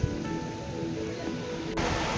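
Steady rain falls on a beach at night during a fishing trip, a dense, even patter that continues throughout with no voices, swelling slightly near the end.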